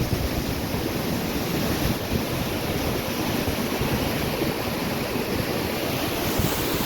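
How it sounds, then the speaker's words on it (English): Small waterfalls flow down a mountainside on the Rupin Pass trek, making a loud, continuous rushing roar of water with wind noise and no pauses. "there are many other small waterfalls flowing from the side"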